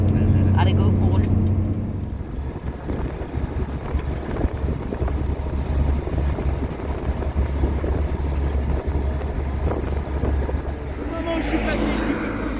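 A car on the road during a roadside travel vlog, with steady engine and tyre rumble plus wind buffeting the microphone, close and continuous, while people talk faintly at the start and end.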